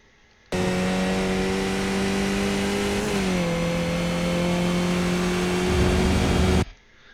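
A Skip Barber race car in iRacing at Laguna Seca holds a loud, steady engine drone, with a brief dip as it shifts up a gear, then pulls on at high revs before cutting out sharply.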